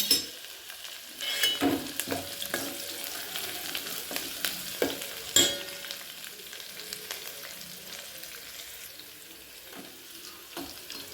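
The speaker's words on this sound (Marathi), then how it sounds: "त्यात कांदा घालून घ्यायचा व तो छान परतून घ्यायचा" Chopped onion sautéing in hot oil with cumin seeds in a home kitchen pan, a steady close sizzle broken by repeated scraping stirs and a few sharper clinks of the spoon, with no voices.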